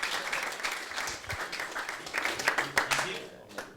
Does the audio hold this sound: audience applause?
yes